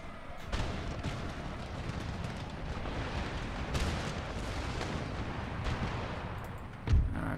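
Battle in Empire Total War with the Darthmod mod, fought by an Ottoman army: a continuous crackle of distant cannon and musket fire with scattered booms and a louder thump near the end.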